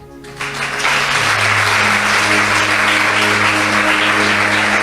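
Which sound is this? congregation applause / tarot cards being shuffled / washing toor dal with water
congregation applause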